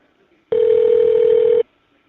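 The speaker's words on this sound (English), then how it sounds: "The number is now being dialed." A prison phone line's automated system places an inmate call with one steady, loud electronic tone. It lasts just over a second against near silence.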